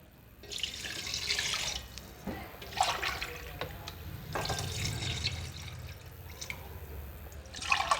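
Water poured mug by mug into a cooking pot for soup stock, four separate splashing pours with short pauses between them, close and clear.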